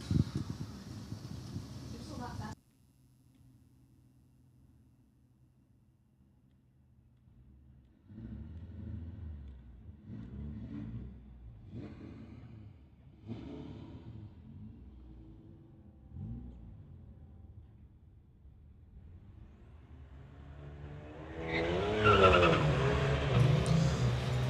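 A BMW and a 2018 Golf launch side by side at a street-legal quarter-mile drag race, engines rumbling low at the start line, then a loud roaring surge near the end, with an announcer talking over much of it.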